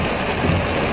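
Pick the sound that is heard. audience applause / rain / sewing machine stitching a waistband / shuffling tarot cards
rain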